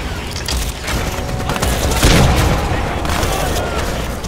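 Grenade blasts and gunfire in the Crysis 2 video game, a dense, continuous roar of booms and shots with a heavier blast near the middle, loud and close throughout.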